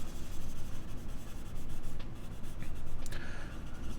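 A paper blending stump rubs back and forth over heavy pencil shading on paper, making a close, continuous dry scratching with steady strokes and a few sharper scrapes.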